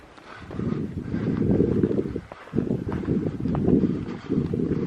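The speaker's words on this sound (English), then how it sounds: "except when the wind comes through" Wind gusts across a hilltop in the Shawnee National Forest on a winter day, rumbling against the microphone in rising and falling surges, with a short lull midway.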